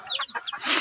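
Chickens in a backyard coop give a rapid run of short clucks, close and fairly loud, lasting under a second.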